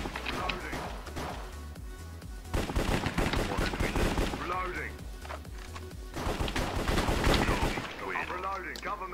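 Gunfire in a CS:GO-style Minecraft video game, repeated bursts of shots running throughout under loud, excited talking.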